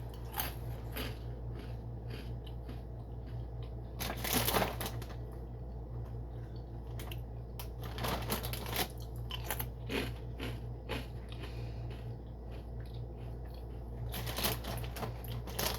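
Dry Eggo cereal eaten straight from the hand, giving close, repeated crisp crunching and chewing bursts over a steady low hum, with no talk.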